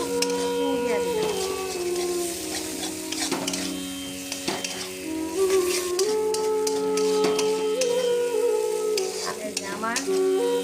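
Mushroom curry stirred and frying in oil in a pan, a steady loud sizzle with scraping stir strokes throughout, while tonal background sounds run underneath.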